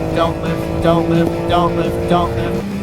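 Race car engine held at full throttle on a track during a hot lap, a steady loud droning roar with rising pitch sweeps, heard under a man coaching the driver.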